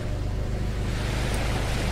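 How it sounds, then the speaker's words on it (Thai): Heavy ocean waves surge and roar steadily around a boat in the underwater exploration game What Live Below, a dense, constant low rumble of churning water with no speech. "เราคลื่นแรงโคตรแบบว่ายกเรือลอยได้ทั้งลำฮะ"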